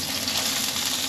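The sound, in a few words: coral trout frying in a cast iron pan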